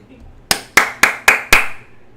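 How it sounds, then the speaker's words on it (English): Five sharp hand claps in a steady, slightly quickening rhythm, close and loud, ending after about two seconds in a short decay with faint background behind them. "Give her a round of applause."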